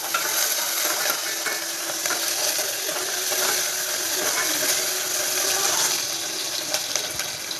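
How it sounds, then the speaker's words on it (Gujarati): Garlic, ginger, onion and chilies frying in a pan, giving a steady, continuous crackling sizzle that holds at an even level with a few brighter pops and no voice over it. "5 મિનિટ માટે એને ફ્રાય થવા દઈશું."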